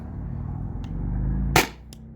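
A Salt Supply S2 air gun firing heavy ammo through a chronograph outdoors on a warm day: one sharp, loud, close crack over a steady low hum, followed by a faint short click.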